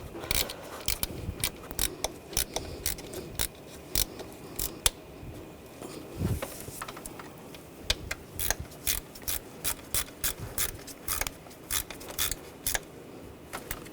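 Screws are tightened on a bracket over hoses in the engine bay of a 2009-2017 Volkswagen Tiguan, a long run of quick, sharp ratcheting clicks in uneven bursts, close and fairly loud.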